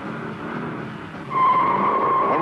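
A 1971 Dodge Challenger launches hard on asphalt with a manual clutch and big tires, its engine roar building then jumping louder as a sustained tire squeal rises over it.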